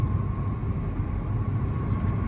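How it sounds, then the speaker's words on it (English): Broadband engine rumble of an airplane passing near DFW Airport, a steady, fairly loud roar with a faint tonal hum held throughout, no speech over it. "I certainly heard the airplane."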